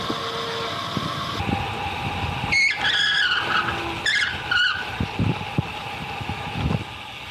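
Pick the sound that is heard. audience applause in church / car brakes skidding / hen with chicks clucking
car brakes skidding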